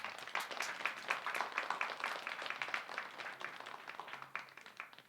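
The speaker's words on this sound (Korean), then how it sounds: "박수 한번 해줘요." A small church congregation claps briefly, distinct individual claps forming a quick, uneven rhythm that stays fairly faint and thins toward the end.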